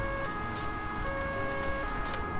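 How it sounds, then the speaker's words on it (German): A police car siren from the Alarm für Cobra 11 video game wails loud and steady, its sustained tones running throughout under driving game engine noise, with no speech. "Aber wir haben mal eine Sirene. Machen wir mal an."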